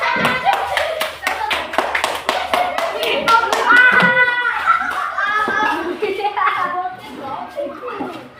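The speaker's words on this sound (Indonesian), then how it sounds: "Tepuk tangan kelompok 4." Classroom of children clapping for their group, a quick run of sharp claps at the start, then children's chatter and voices continuing close by over the remaining seconds.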